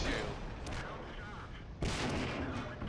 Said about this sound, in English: I'm just machine gunning it